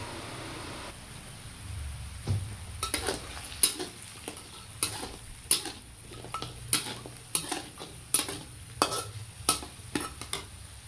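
Melting palm sugar with sweet soy sauce being stirred in a pan, a spoon scraping and tapping the pan in a steady run of distinct strokes over a low sizzle, close up and without speech.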